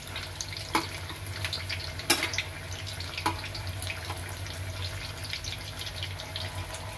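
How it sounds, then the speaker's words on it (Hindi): Potato-stuffed bread rolls fry in oil over a medium flame, a steady bubbling sizzle with a few sharper crackles and taps, heard alone and at moderate volume. "ऑयल में तलने के लिए छोड़ दिए हैं।"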